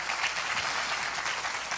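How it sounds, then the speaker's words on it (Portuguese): A church audience gives the volunteer servants a dense, continuous round of applause, heard at moderate distance with no speech over it. "Uma salva de palmas, gente, para esse exército de servos comprometidos."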